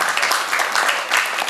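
Brief burst of audience clapping at a university faculty ceremony, a dense, moderately loud patter of hands lasting a moment with no speech over it.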